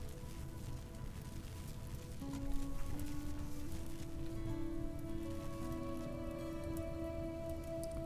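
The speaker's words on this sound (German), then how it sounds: "Beziehungsweise es regnet eh" Rain falls in the video game RimWorld as a faint, steady patter, with soft sustained music tones beneath it.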